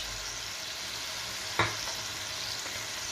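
Ground red chili, turmeric, crushed chili and cumin fry in hot oil for a fish curry, giving a steady soft sizzle with one brief stir or clink partway through.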